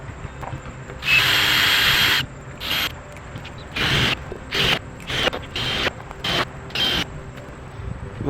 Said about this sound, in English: that was pretty easy using the DeWalt drill gun and the 5/16 bit